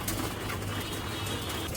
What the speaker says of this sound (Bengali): এই যে এটা আমার খুব পছন্দের একটা কবুতর, গোল্লা কবুতর, একদম অরিজিনাল দেশি গোল্লা